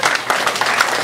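A comedy club audience claps in a short scattered burst, with a few distinct claps audible among light applause at mid distance.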